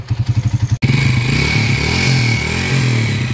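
An overhauled motorcycle engine in Pangasinan runs close and loud, first with a quick lumpy idle pulse, then a steady droning rev after a brief cut.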